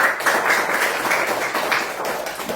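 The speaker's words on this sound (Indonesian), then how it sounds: "Tepuk tangan untuk temannya." A classroom of students claps together in a dense, steady patter of applause lasting a few seconds, fairly loud and close.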